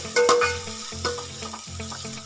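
Curry leaves and onion frying in a pan for kovakkai poriyal, a sharp close crackle at first, then a steady sizzle with a few knocks from stirring.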